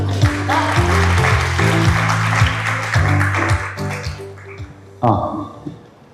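Audience applause for a forum speaker at the 2026 Suseong International Biennale pre-biennale rises under loud background music with a steady beat, fading toward the end before a brief burst near the close.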